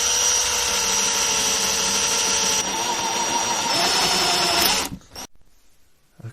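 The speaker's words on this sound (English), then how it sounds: "drill a hole through the base of the shed to underneath this board" A power drill bores a hole through the base of a small model locomotive shed, a steady whining buzz for nearly five seconds with a slight pitch shift midway, then stopping abruptly into near silence.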